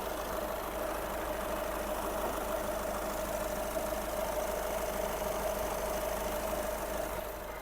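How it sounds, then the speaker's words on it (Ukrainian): A 2010 Skoda Octavia A5 2.0 TDI diesel engine idles on and on with an even, faintly knocking rumble and no voices. "Отже, легендарний двохлітровий дизельний двигун."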